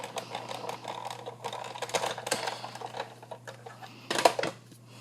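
A hand-cranked embossing machine presses an embossing folder with a plate on top, producing a run of rough mechanical grinding and clicking with a sharper burst near the end, steady hum underneath, no talking.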